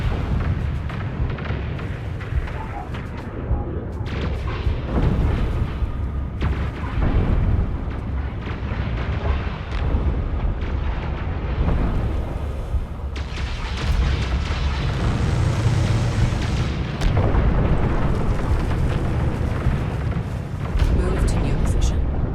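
Repeated booming explosions from a big rock being destroyed in the space strategy game Homeworld 3, loud rumbling blasts layered continuously under ongoing speech.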